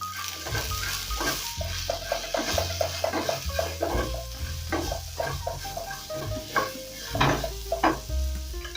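Onions sizzling and being stirred in a hot pan with broccoli, a loud continuous frying hiss broken by repeated scraping and clattering of the utensil against the pan.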